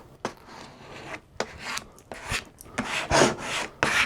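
Vinyl lettering decal on transfer tape being rubbed down by hand, giving repeated short dry scraping strokes, close and fairly quiet, with brief pauses between passes and no talking.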